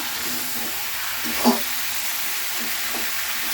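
Turmeric masala is stirred with cauliflower in a frying pan, making a faint, even sizzle with one brief scrape of the spoon midway.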